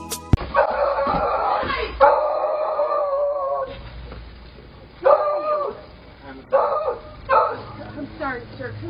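Dogs bark and yip in loud bursts while chasing people in a neighborhood, with shouting and voices overlapping the barks close by.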